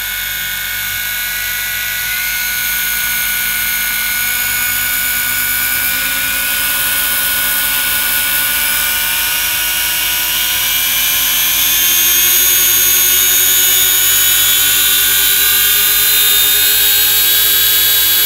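Twin electric motors with three-blade props on a Parkzone DH98 Mosquito RC model plane spin up into a loud, sustained high-pitched whine and hum, rising slightly toward full throttle, with no talking.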